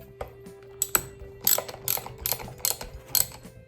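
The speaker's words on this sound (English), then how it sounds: "let's go ahead and use my ratchet." Repeated ratchet clicks from tightening the bolts on a Lectric XP e-bike suspension seat post, coming in short bursts of quick metallic ticks spread across the clip, close and moderately loud with a steady faint hum underneath.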